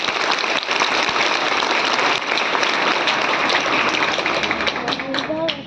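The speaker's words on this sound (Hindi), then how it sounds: "जरा अपने लिए जोरदार एक ताली हो जाए।" Loud, sustained applause from a crowd of children at a school Children's Day assembly, dense clapping that runs the whole stretch with voices mixed in.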